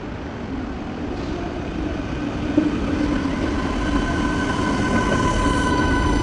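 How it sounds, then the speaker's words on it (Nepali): A train in Adelaide rolls steadily into a station with a continuous rumbling roar and a faint wheel squeal that builds slightly over time, and no voices. "That's my train. यही ट्रेनमा जाने अब सिटी।"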